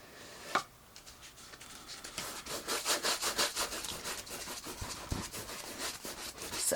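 A paintbrush scrubs crisscross texturing strokes across canvas while a macaw picture is painted. The strokes make a steady, quiet, rhythmic scratchy brushing close up, and no one talks.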